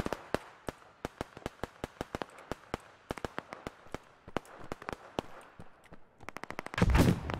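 Rapid sharp shots from Operation Harsh Doorstep video game gunfire crack out in an irregular string over several seconds, ending in a louder, denser burst near the close.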